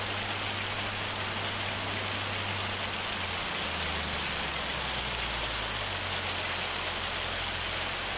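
Steady rainfall in a PS5 farming game, a constant dense hiss of drops over a low rumble, loud and unbroken from start to end.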